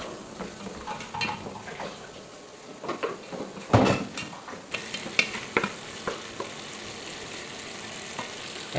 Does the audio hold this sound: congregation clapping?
no